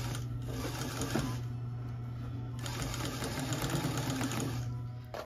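Home sewing machine stitching in the ditch along a garment's finished seam, a steady fast mechanical whir with a low hum running throughout, close and continuous with brief changes in pace.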